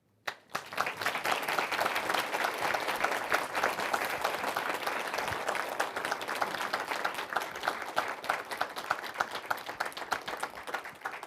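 Audience applause after a lecture on dismantling mass incarceration, sustained dense clapping from a large hall crowd that starts abruptly and continues steadily for about ten seconds.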